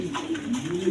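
A pair of green-rose high-flying pigeons coos steadily, a low continuous throaty murmur close by, with faint background noise and no clear talk.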